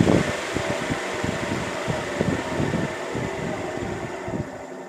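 A fan driven by a DC motor through a speed controller whirs at reduced speed, a steady, close, airy hum with a faint rhythmic flutter and no talk.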